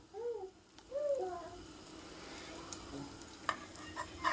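Yogurt waffle batter frying in hot oil, a soft continuous sizzle with a few stirring scrapes and small pops, fairly faint, with no talk over it.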